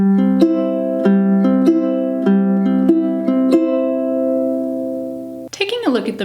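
Ukulele strums repeat in a steady, bouncy rhythm for about five seconds, ringing out before a voice begins speaking.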